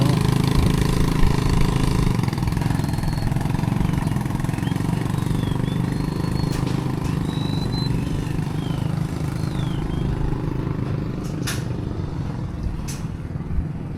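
A vehicle engine runs with its exhaust submerged in flood water, giving a steady, close, low rumbling drone that holds throughout, with faint high chirps above it.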